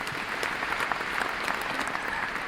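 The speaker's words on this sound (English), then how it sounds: "Let's have a big round of applause for our cast" Theatre audience applauding the cast at a curtain call for a production of Henry IV Part Two, a brief, steady burst of dense clapping from a full house with no voices.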